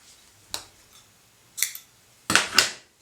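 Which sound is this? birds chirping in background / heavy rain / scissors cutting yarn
scissors cutting yarn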